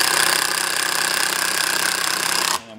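A self-tapping screw with secondary reverse threads driven in by a power driver, reaming out its hole before the cutting edges under the head seat it: a steady, loud grinding whir that cuts off abruptly near the end.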